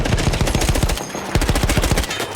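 Machine gun fire in the World War I video game Battlefield 1: rapid, loud bursts of evenly spaced shots, with a brief pause near the middle before the firing resumes.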